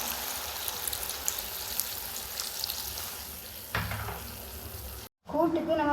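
Cabbage sautéing in a pan hisses and crackles with a steady sizzle, a sharper burst as water hits the hot pan near the end, followed by a brief cutoff and a voice speaking.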